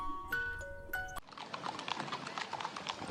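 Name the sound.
horse cart with horse hooves clip-clopping and neighing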